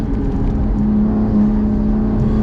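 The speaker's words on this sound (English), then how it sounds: "I've never driven a modern BMW where you can just get on the gas so quickly." A BMW M2 Competition fitted with Pure Turbos accelerating hard, a loud, steady engine drone with a turbo whir heard from inside the car.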